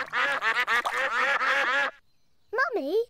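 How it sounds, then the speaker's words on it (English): Cartoon ducks at a pond give a loud, close burst of rapid, overlapping nasal quacks. After a short pause, one more drawn-out, wavering vocal call follows. "Peppa and George love feeding bread to ducks."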